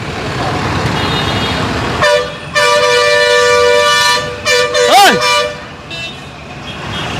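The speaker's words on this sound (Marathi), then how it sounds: "अरे भाऊ कित्याक हॉर्न कित्याक मारता रे" Vehicle horns honking at a congested traffic junction in Mapusa where an ambulance is stuck, with loud, long sustained blasts overlapping one another over steady traffic rumble and a rising-falling wail midway.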